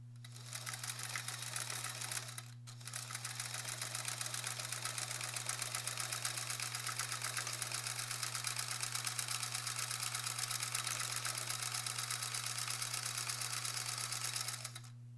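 A sewing machine stitches free motion quilting over appliqué blocks, its fast steady motor whir and rapid needle clatter running loud and continuous, with one short pause near the start.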